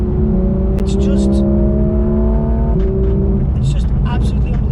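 A Porsche 911 GT3 RS (991.2) engine held at high revs above 6,000 RPM, a loud sustained mechanical wail with shifting pitch, heard close from inside the car while someone talks over it.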